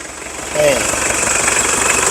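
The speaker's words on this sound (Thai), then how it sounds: "จะมีเสียงท่อแตกนิดนึงนะครับ" An Isuzu Dragon Eye 4x4 pickup engine idles with a steady low rumble and rough, ticking rattle from a cracked exhaust, heard up close over a constant noisy hiss.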